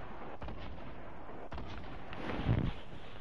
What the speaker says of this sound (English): Well, what are those explosions?